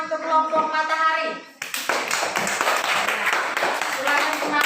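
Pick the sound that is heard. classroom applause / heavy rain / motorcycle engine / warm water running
classroom applause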